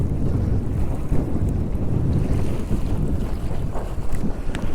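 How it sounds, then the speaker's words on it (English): Strong wind buffets the microphone with a loud low rumble, with choppy water splashing and sloshing around a Hobie Outback sailing kayak underneath. "On a really strong windy day like this"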